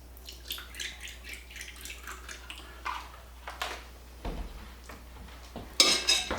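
Beaten egg and milk being mixed in a bowl for country fried steak batter, with a series of light clinking taps and scrapes of a utensil against the bowl, soft and close, followed by a louder clatter near the end.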